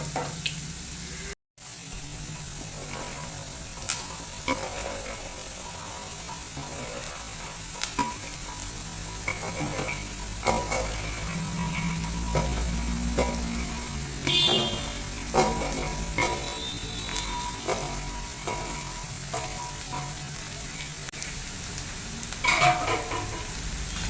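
Chopped green beans hit a hot pan with onions for a Kerala-style beans mezhukkupuratti, giving a steady oily sizzle broken by scraping and knocking as the spatula stirs them. No one speaks.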